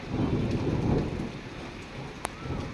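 An unseasonal pre-summer thunderstorm over farmland, with steady heavy rain, low rumbling thunder and a sharp crack near the end, no talk.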